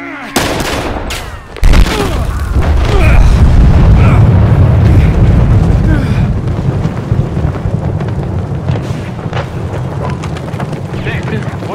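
Gunfire and explosive booms in the shooter game Battlefield Hardline ring out loud and dense over a constant rumbling background, with a sharp blast near the start and sustained heavy noise afterward.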